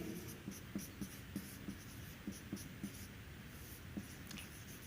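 Chalk strikes a board in short taps and strokes, recorded close and faint, with an uneven rhythm of marks and quiet room noise between them.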